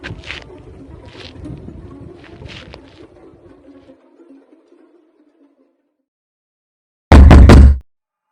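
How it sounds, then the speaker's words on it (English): Pounding on a bedroom door as a horror sound effect: scattered softer knocks and noises fade into silence, then one loud, heavy bang lands near the end. "processing what might be pounding on the door outside of my bedroom this late"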